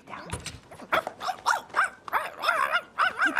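A dog barks and yelps in a rapid, excited series of loud, close calls with short whimpery inflections, running continuously throughout with no talk over it.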